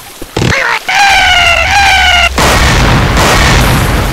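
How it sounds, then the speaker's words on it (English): A pipe bomb blast in a zombie shooter game: a short pop, then a steady electronic beeping tone for over a second, followed by a loud, broad roaring explosion that fills the rest of the moment. "Pipe bomb out."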